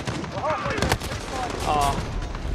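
Shotgun blasts in Call of Duty Modern Warfare ring out as loud, sharp bursts over dense, continuous battle noise, with a voice talking over part of it.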